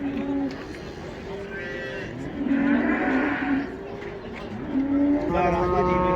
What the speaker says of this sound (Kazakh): Бұзау еркек екен.